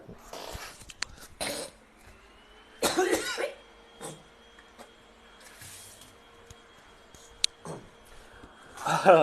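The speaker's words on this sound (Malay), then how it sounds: "Saya ni masih batuk lagi ni." A person coughs repeatedly in short, throaty bursts spaced a second or two apart, close to the microphone, with a faint steady hum between them.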